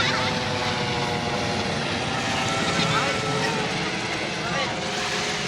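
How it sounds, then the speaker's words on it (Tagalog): A steady helicopter rotor drone hangs over Baseco Beach, constant and fairly loud, with voices and outdoor beach bustle mixed underneath. "Ingay ng helicopter."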